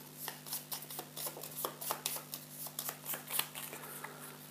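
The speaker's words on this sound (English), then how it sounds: "Shuffle together the act 4 cards." Game cards for a zombie-themed tabletop board game are shuffled in quick repeated riffles, producing crisp, close, rhythmic flutters over a quiet background hum.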